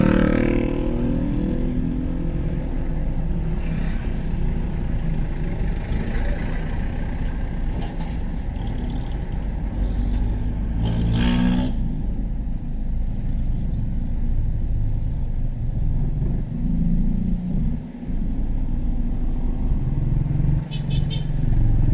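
Traffic rumbles steadily around a car crawling along the road toward Tagaytay near Calax, a continuous low engine and road drone with occasional passing vehicles and brief muffled sounds from inside the cabin.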